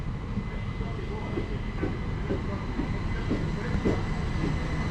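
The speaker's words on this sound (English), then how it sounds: "This is going to be my train that takes me to Horsham next." Class 377 electric multiple unit train on a rail platform, heading for Horsham; a steady loud rumble of rolling stock with faint periodic wheel clicks, continuous and close throughout.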